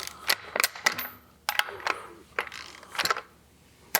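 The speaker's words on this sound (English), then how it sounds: "we'll go ahead and torque those down now" A ratchet wrench torques down 10 mm bolts, giving sharp metallic clicks in short irregular bursts, up close, with faint quiet gaps between them.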